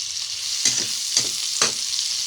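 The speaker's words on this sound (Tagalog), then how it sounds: "nagigisa nga pala tayo ng sibuyas, kamatis at bawang. Mula sa pinagpalabasan ng mantika ng ating karne." Onion, tomato and garlic sauté in rendered meat fat, giving a steady close sizzle with three distinct stirring scrapes spaced about half a second apart.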